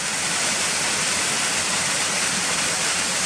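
A small waterfall pours under a road bridge, a loud, close, unbroken rush of falling water that stays steady from start to end.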